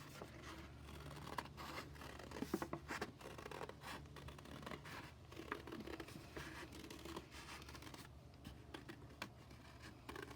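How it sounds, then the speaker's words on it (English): Scissors snipping and scratching through watercolor paper while cutting out a round ornament, quiet repeated small cuts and paper rustles spread over ten seconds, faint and close with no talking. "Same thing, you just open and close your scissors a little bit while you rotate the paper"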